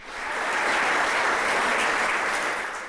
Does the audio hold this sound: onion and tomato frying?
no